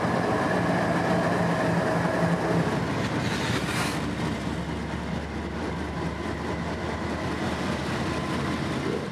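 A freight train rolls over the diamond crossing on the Jesup sub, a steady loud rumble of rail cars with a low engine drone and a brief high screech near the middle, close and continuous.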